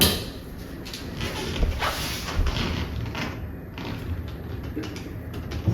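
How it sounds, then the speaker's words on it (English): A kitchen cabinet drawer slides in on its rails with a continuous rolling rumble, broken by a few soft thumps and knocks as it runs and settles, close by and with no talking. "Once you push the drawer in, the rails will automatically line up to where they need to be."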